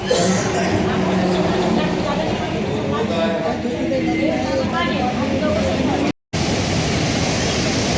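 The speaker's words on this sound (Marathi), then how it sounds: "हाच तो बेळाघाटचा धबधबा आहे आणि खूप सुंदर वातावरण आहे तिथलं" Belaghat waterfall in Nepal roars as a dense, continuous rush of falling water, loud and close, with a brief dropout near the end.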